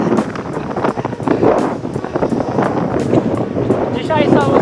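Strong wind roars across the microphone at Waikiki beach on Oahu, a loud gusting rumble with the surf beneath, while a person talks over it.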